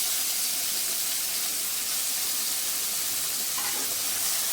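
Tomato and green chilies fry in a pan with a continuous bright sizzle and hiss, steady and close, with no talking.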